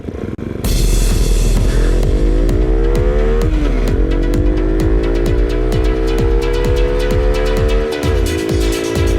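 Loud motorbike engine heard while riding at close to 60, droning steadily with a rising pitch as the rider accelerates through the gears, and a dip at each shift.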